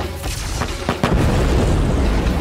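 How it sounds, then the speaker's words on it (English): An explosion in an Avatar: The Last Airbender episode: a few sharp pops lead into a loud, heavy boom that keeps rumbling to the end. "He's shooting explosions."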